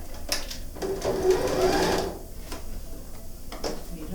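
A sewing machine stitches a few quick backstitches on a zipper pouch, with a steady close mechanical whir and light ticking clicks that pause between short bursts.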